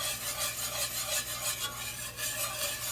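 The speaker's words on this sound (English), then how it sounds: "Whisk again till it's all incorporated." A whisk scrapes steadily around a pan as flour is worked into homemade gravy, making a soft, continuous rasping swish that rises and falls in a regular stirring rhythm, heard up close without speech.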